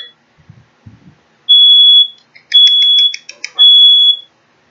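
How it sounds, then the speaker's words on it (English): A shrill kitchen smoke alarm set off by cooking sounds in loud, sustained tones with a rapid stuttering beep between them, after a few faint thumps; no talking. "Oh, there goes my smoke alarm. This happens every time we cook."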